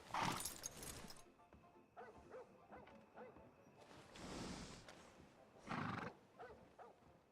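A horse in the Red Dead Redemption 2 video game whinnies loudly at the start, then snorts and neighs again in bursts, with scattered hoof steps and a faint dog-like yap in between.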